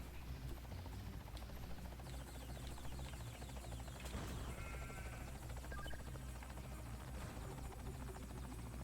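Helicopter flying in the video game Ty 2, a steady buzzing rotor drone that holds at a fairly constant level throughout with no talking, plus a brief louder whoosh partway through.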